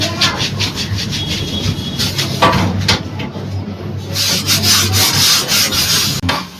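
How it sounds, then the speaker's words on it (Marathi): A grill being wiped and rubbed clean at home, giving a steady, loud scraping and rubbing texture with repeated strokes throughout, close by and without talk. "या साईडने मी पुसून घेतलं सगळं, त्या साईडने पूजा सगळं घासून काढते."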